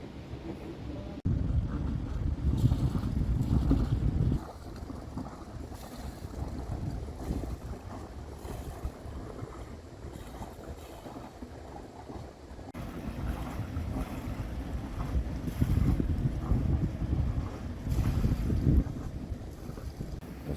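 A boat engine rumbles steadily at close range as the boat arrives at a canal lock in Moissac, its low drone rising and falling over about twenty seconds, with wind buffeting the microphone and water noise.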